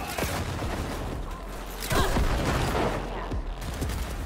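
Cyberpunk 2077 weapon fire from a projectile launch system comes in a few sharp booming bursts, mid-distance, with mechanical clicks between shots and a dense game soundscape underneath.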